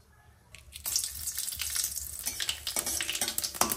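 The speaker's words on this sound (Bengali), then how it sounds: "এবার কড়াইয়ে একটু তেল দেব, আর কালো জিরে শুকনো লঙ্কা ফোড়নে দিয়ে দেবো" Nigella seeds and dried red chilli hit hot oil in a kadai, bursting into a steady crackling sizzle after a quiet start, with scattered pops and a few stirring scrapes, close and fairly loud with no talking.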